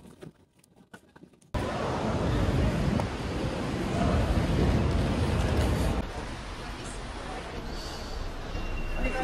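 Strong wind on a rainy day at Treviso airport roars loudly and steadily against the microphone, bursting in after a brief quieter start and easing slightly toward the end.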